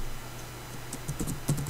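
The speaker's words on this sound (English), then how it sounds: "So go to terminal and type in sudo apt-get install conky." Computer keyboard typing of a Linux terminal command: a quiet stretch, then a quick run of close, crisp keystrokes in the last second.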